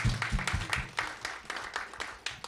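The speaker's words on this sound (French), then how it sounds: "Je vous demande de vous applaudir," An audience at a Bonjour 2014 show applauds in a short, fairly faint burst of scattered clapping with distinct individual claps.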